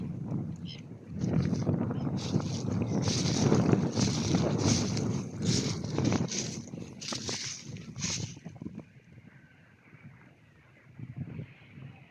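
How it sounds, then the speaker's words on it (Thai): Wind gusts along a Finnish riverside on an afternoon, buffeting loudly and roughly for several seconds before easing to a softer breeze, with a voice speaking through it. "ลมดีมากมาย"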